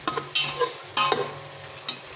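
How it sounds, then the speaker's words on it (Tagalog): Tausi, fermented black beans, being stirred into a cooking dish, with a few sharp scraping strokes of a utensil against the pan over a low sizzle, close by with no talk. "Ay, halo na natin yung tausyo."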